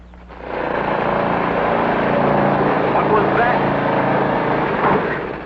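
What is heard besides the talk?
lawnmower engine running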